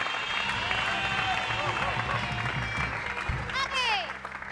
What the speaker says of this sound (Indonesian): Kita kasih tepuk tangan dulu dong buat penelpon.